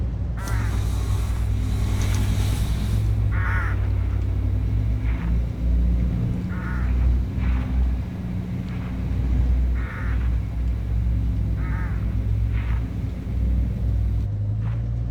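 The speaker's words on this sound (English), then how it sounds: "Look, hooded crows all along this road." Hooded crows caw in a video game beside a road, a series of short harsh calls repeating over a steady, loud vehicle rumble.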